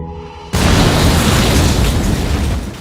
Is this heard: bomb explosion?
yes